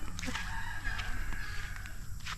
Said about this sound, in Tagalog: Ayan yung mga pabo. Mga manok.